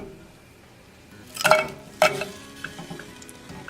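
Pre-cooked shrimp sizzle in a hot pan as they are seasoned and warmed, with two sharp bursts of stirring and scraping over a steady quiet fry.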